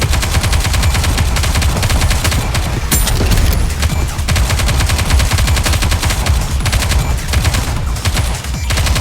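Dense, continuous gunfire in the PC game NIKKE: Goddess of Victory, rapid machine-gun bursts and overlapping shots layered with loud game effects, filling the whole stretch without pause.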